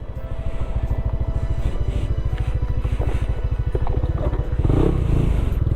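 A modified Yamaha Aerox 155 scooter is ridden nearby, its engine giving a fast, steady putter that swells a little louder toward the end, with no voices.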